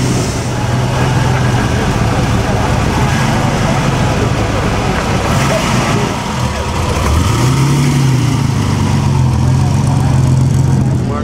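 Classic Marzotto race car engine running at the Mille Miglia road race, a steady loud mechanical drone with a low hum that rises and shifts pitch partway through, over constant traffic-like noise.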